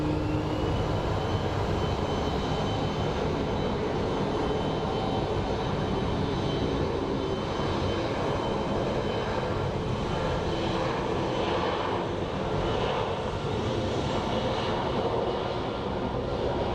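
A small Embraer jet landing at Phoenix Sky Harbor International Airport, its engine roar loud and steady throughout, a broad continuous rumble and whine with no voices.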